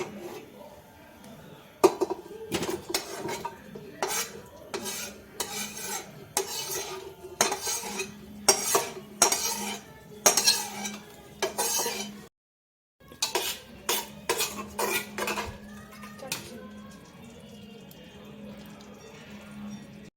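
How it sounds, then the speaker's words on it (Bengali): Metal spoon scrapes and clatters against a pan while marinated chicken is stirred and fried, irregular bursts of knocking over a faint sizzle, close up with a brief pause midway. "এটা ভাজা হচ্ছে, এটাকে গ্র্যাজুয়ালি এই যে ম্যারিনেটটা বানানো হয়েছে এটা দিয়ে দিয়ে এটা ভালোভাবে কষিয়ে নেব।"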